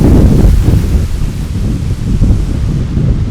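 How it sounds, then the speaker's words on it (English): A strong wind gust during Hurricane Helene roars across a farm, loud and buffeting the microphone with deep rumbling turbulence that swells and dips continuously, with no voices. "That's a sweet gust right there."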